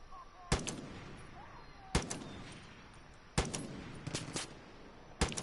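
Repeated shotgun blasts in the Far Cry 5 Arcade mode, four loud sharp shots spaced a second or more apart over a steady background of game ambience, with smaller impacts between them.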